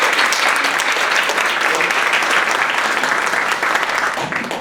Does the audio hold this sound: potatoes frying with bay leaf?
no